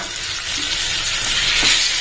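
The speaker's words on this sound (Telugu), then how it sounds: "టమాటో ఒక 1 minute అంటే ఒక ½ minute ఫ్రై అయితే చాలండి" Tomato frying in a pan with onions for poha upma, a steady broad hiss and sizzle running evenly and close throughout, with no talk.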